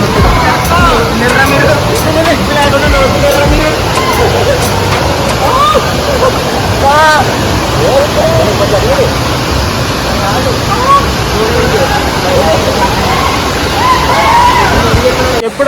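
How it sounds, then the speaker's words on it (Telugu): Valasa waterfall near Maredumilli roars steadily and loudly nearby, with a crowd chattering and calling out over the rushing water. "మన వలస వాటర్ ఫాల్స్ అయితే వచ్చేసింది"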